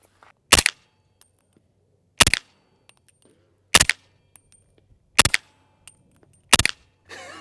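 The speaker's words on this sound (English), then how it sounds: "I'm going to shoot another group" A 300 Blackout rifle fires five sharp, loud single shots at roughly even intervals of about a second and a half, each crack standing alone against near silence.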